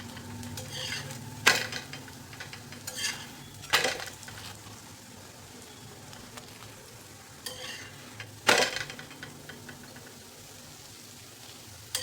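Bottle gourd thalipeeth fries on a pan in a Marathi kitchen, a soft continuous sizzle broken by several sharp scraping and stirring clatters of a utensil against the pan.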